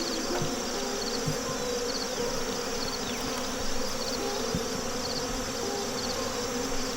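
Bees from a weakened, damaged hive buzz steadily and close by, a dense continuous drone with no talking over it.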